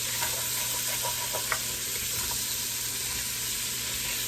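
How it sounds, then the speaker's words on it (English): Turkey wings cook with vegetables in a pot, giving a steady sizzle and hiss with a few light knocks and stirring taps close by. "we're going to put our turkey wings right in here with these vegetables, and we're going to let them cook."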